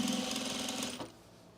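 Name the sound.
sewing machine top stitching cargo pants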